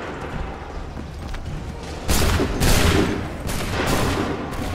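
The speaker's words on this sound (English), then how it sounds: "Open fire." Musket volleys crack out in Assassin's Creed 3, a massed burst of gunfire erupting loud and close, followed by a second thundering volley and scattered lingering shots over a noisy battlefield.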